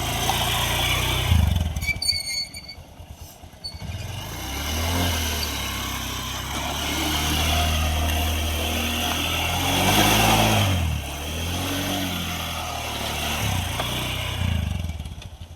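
A Honda Shine motorcycle spins in circles on water-soaked ground, the engine revving and surging in repeated waves with rises and falls in loudness, nearby and fairly loud, with some clattering at the start.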